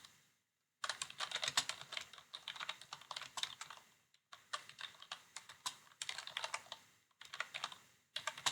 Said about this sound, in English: I'm going to type that in here.